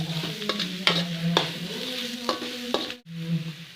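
Mustard greens (sawi) stir-fried in a pan without added water until wilted, with a soft sizzle under repeated scraping and tapping of a spatula against the pan, a brief pause, then stirring again.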